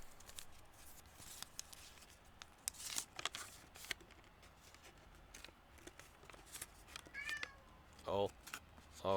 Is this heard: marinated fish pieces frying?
no